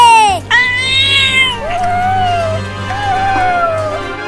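A cartoon kitten cries in a series of high, wavering mewling wails, loud and close, drawn out over a few seconds with a low steady hum underneath.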